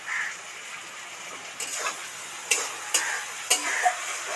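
Tomato and spices (radhuni, ginger, cumin, coriander and chili powder) frying in oil for a vegetarian cabbage curry make a low hiss. Four or five sharp stirring clinks and scrapes punctuate it up close, with no talking.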